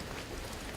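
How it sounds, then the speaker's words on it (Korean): Steady rain falls on a wet walking path in Taiwan, a dense, even patter that fills the short moment with no voices. "이 정도 비야 뭐 할만하죠."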